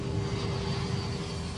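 A Boeing 737 airliner's engines strain during a climb in icy conditions, a steady, dense roar with a low rumble and a fixed whining tone running unbroken throughout.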